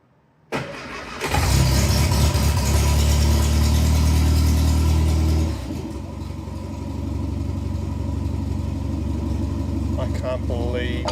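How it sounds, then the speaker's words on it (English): A long-neglected Morris Minor ute, idle for over 20 years and running without an exhaust, cranks briefly and catches, roaring loud for several seconds before settling into a rough, steady idle, close by. "I can't believe that's so easy."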